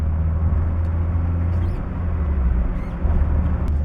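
A stock Toyota AE86 engine runs with a steady, deep low rumble and droning hum, heard close and continuous in wet weather in Japan.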